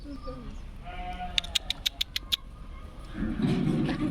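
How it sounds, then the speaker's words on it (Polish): A few short, high bleats from sheep in quick succession, then a rise of low rumbling noise near the end. "Jedna czarna Jest owca."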